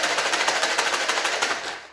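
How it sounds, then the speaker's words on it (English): A maraca shaken steadily produces loud, close, rapid rhythmic rattling pulses that run continuously with no voices. "She used the analogy of the maracas shaking beside us."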